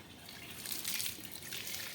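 Water poured from a bucket over a German Shepherd during a bath, a steady close splashing gush that swells in the middle and keeps running for the length of the clip.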